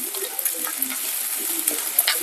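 Ginger garlic paste and tomatoes fry in a pan with a soft, crackling sizzle, punctuated by brief stirring scrapes, close and steady.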